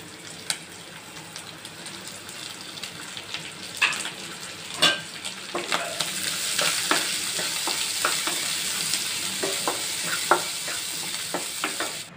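Onions frying and being stirred in a pan for corn masala, a steady sizzle with a scatter of scraping spoon strokes against the pan, close and fairly quiet.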